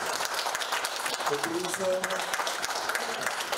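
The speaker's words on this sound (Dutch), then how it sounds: "Een hartelijk applaus" Audience applause at a young entrepreneurship division installation ceremony, a fairly quiet, steady clapping under and around a voice speaking, with a brief murmur of crowd sound mixed in.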